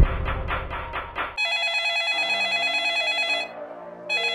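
After a few rapid pulsing beeps, an electronic phone ringtone chimes loudly in sustained, warbling bursts with a short pause between them.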